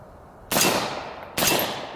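Two suppressed shots from a PWS MK116 MOD2 AR-15 rifle chambered in 7.62x39, each a sharp crack with a decaying tail, spaced under a second apart, close and fairly loud over quiet outdoor background.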